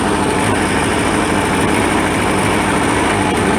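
A classic tractor with a mower attachment runs steadily as it is put into gear, a loud, close, unbroken engine drone with a constant rumble and no speech over it.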